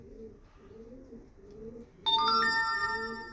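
Pigeons coo softly in a steady, repeating rhythm, close by, before a bright electronic ringtone suddenly starts up over them.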